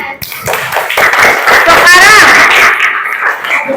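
Schoolchildren in a classroom clap their hands together in a short burst of loud, fairly irregular claps lasting a few seconds, with children's voices mixed in.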